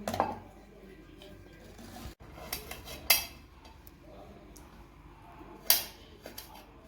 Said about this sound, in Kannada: ಇಲ್ಲಿ ಕಾಯಿನ ನಾನು ಚಿಕ್ಕದಾಗಿ ಪೀಸ್ ಮಾಡ್ಕೊಳ್ಳೋಕೆ ತಗೊಳ್ತಾ ಇದ್ದೀನಿ